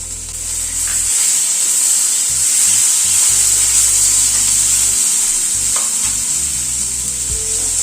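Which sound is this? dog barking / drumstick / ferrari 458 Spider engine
drumstick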